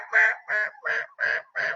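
A boss hen wild turkey calls in five evenly spaced, raspy yelps, close and fairly loud with no other sound.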